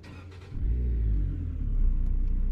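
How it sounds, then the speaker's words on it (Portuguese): A truck engine in Euro Truck Simulator 2 cranks and catches at about half a second, settling into a steady low idle rumble that swells slightly, heard close and alone with no talk. "Deixa eu estar ligando o carro aqui."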